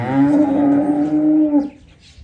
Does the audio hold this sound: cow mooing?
yes